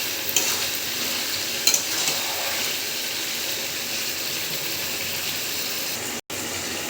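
Chicken sizzles steadily in a hot pan as sugar is stirred in, a continuous bright frying hiss with a few soft utensil scrapes near the start and a brief dropout near the end.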